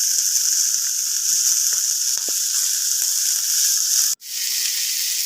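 Red chillies, onion and garlic fry in a pan with a loud, continuous close-up sizzle that cuts off abruptly near the end and then resumes more faintly.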